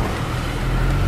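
Steady car engine hum and road rumble from inside a moving vehicle, continuous and moderately loud with no voices.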